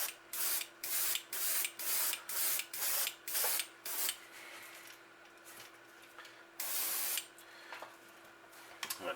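Short bursts of spray paint hiss as a white base coat goes on over a 3D stencil, about seven quick evenly spaced blasts followed by a pause and one longer spray, all close and fairly quiet.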